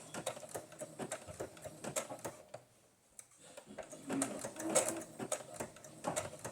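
A sewing machine stitches through paper for junk-journal pages in rapid bursts of ticking clatter, pausing briefly in the middle before resuming, close and moderately loud.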